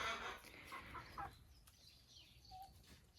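Rooster on a home poultry farm with laying hens, giving a few soft clucks close by amid faint farmyard background, no speech.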